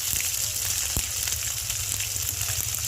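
A spice paste of garlic, cumin, ginger, chopped tomato and green and red chili fries in a pan for chole bhature, giving a steady close sizzle with faint stirring scrapes.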